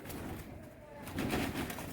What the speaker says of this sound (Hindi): फजान के हर जगह पे छाए हुए हैं कबूतर